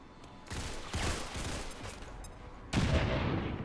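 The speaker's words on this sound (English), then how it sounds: "let's chuck a big old nade over here" Grenade blasts and gunfire in the XCOM 2 strategy game, heavy booming bursts that overlap across a few seconds, with a sharper louder explosion near the end.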